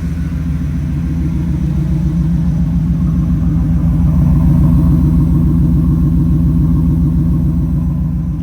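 A 1994 Chevrolet Camaro Z28 convertible's engine runs close by, a loud, steady low rumble with an even pulsing idle that swells slightly midway and holds without speech.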